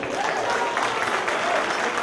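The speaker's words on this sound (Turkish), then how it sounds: "Ondan bu alkışlar çok az." A dense, continuous round of audience applause fills a hall at BOZCADER's 20th-anniversary event. The clapping stays steady and close throughout, with faint voices mixed in.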